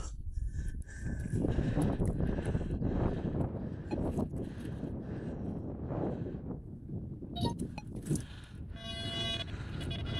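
Cold wind gusting steadily past the microphone outdoors, a loud broadband rush with a few tonal honk-like bursts and whistles near the end, with no clear talk.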